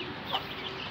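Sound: chickens clucking in a cage

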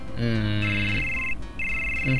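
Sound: mobile phone ringtone ringing

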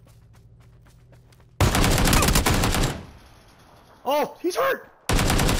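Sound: gunfire in a video game

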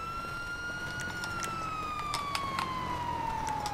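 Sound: fire truck siren in video game Grand Theft Auto Online

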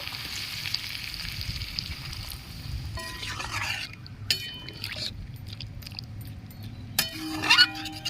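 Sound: water being added to a pan of spiced curry

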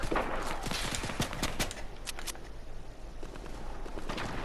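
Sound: gunfire in a video game

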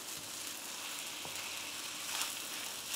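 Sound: stirring egg fried rice with soya sauce, chili sauce, vinegar

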